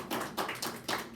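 Brief audience applause in a church hall, a short burst of rhythmic hand clapping, moderately faint, with no talk over it.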